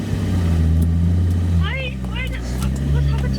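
A Nissan 350Z engine drones steadily inside the cabin while being driven, a low continuous hum with slight shifts in pitch, with a person talking over it.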